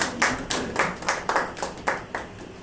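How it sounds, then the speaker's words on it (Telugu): A church congregation at a Sunday worship service claps in thanks, a loose run of about eight sharp, fairly close claps spread over a couple of seconds, with no talking over it. "మరి అందరూ కూడా చప్పట్లు కొట్టి ఆయనకి ధన్యవాదాలు చెప్పాలని కోరుతున్నాను"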